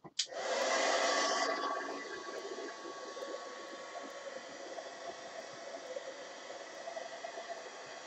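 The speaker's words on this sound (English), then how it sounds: "We got a heat gun it. Heat gun." A heat gun blows hot air in a steady, loud whoosh that kicks on abruptly, surges for the first second or so, then settles into a continuous, slightly lower rushing hiss that runs on alone without talk.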